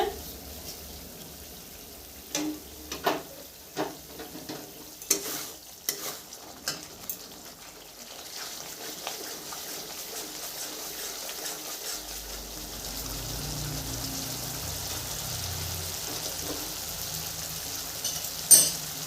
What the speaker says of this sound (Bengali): 2 মিনিট লো আঁচে রান্নাটা করে নিব।